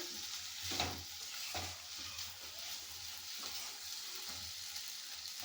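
Eggplant and potato curry with tomato fries in a pan, making a soft, steady sizzle with a few stirring scrapes, close by and with no voices.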